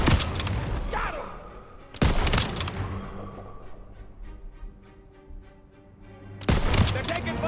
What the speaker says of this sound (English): They're taking fire from behind!